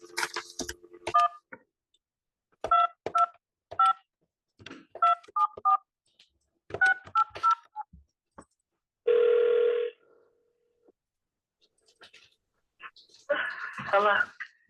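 Telephone number dialed on a keypad: a series of short touch-tone beeps in quick groups, followed by a longer steady tone and then a ringing signal, with voices speaking between.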